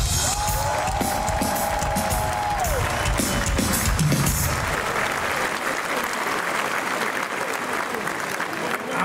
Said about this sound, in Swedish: Kan ni vara så snälla ge en enorm applåd till eh, Chris